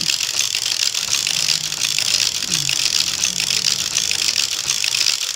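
A Passap Tricofit knitting machine being cranked, with a steady ratcheting, mechanical whir and clatter carrying loudly and continuously throughout, near and alone.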